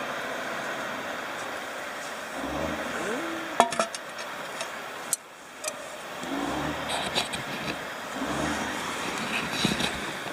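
A truck passes at a distance on a road beside an outdoor camp stove setup, its engine rising and fading with a few sharp knocks and clanks, moderately faint, with no talk.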